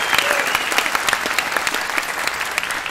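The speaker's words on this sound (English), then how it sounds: "One more round of applause for Harry" Dense, steady applause from an audience at a school winter instrumental concert, many hands clapping together at full volume for the whole stretch with no break.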